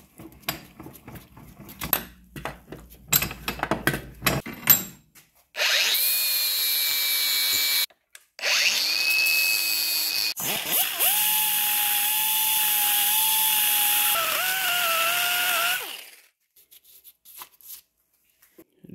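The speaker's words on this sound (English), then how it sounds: "So we grind down those fins right here so we can seat the coupler deeper onto the throttle body" A power tool grinds down the metal fins on a BMW E46 throttle body, a loud high whine in two long bursts. Short clatters of handling come before the grinding and a faint tail follows it.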